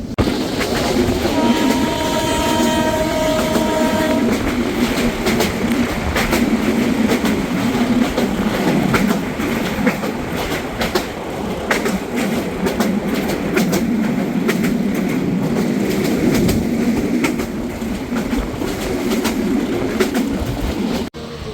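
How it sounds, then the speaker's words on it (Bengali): Dolonchapa Express pulls out of Kholahati railway station with a steady loud rumble and clatter of wheels, a sustained horn tone sounding early on, then continuous rolling noise throughout. "সাতটা বেজে এক মিনিটে ট্রেনটি ছেড়ে যাচ্ছে খোলাহাটি রেলওয়ে স্টেশন"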